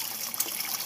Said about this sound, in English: a vortex of water movement